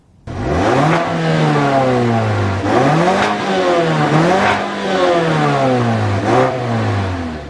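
A 2014 Mazda6 Grand Touring with a 2.5-liter four-cylinder Skyactiv engine of 184 horsepower accelerates hard, its loud, close engine note rising through several gears with brief dips at each shift.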